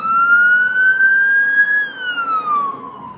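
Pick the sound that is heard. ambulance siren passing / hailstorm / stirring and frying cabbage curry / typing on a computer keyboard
ambulance siren passing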